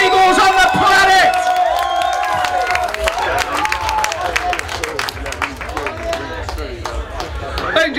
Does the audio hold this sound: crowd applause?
yes